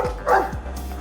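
A dog in the video game Dragon Age 2 gives a couple of short, close barks followed by a higher yip, clear and fairly loud with no speech over them.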